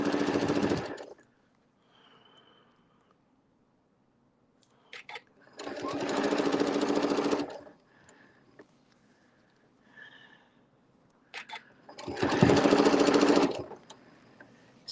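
Sewing machine stitching around a circular Christmas appliqué disc in a home sewing studio, with three loud close bursts of rapid mechanical rattling separated by quiet pauses, faint clicks and soft handling sounds.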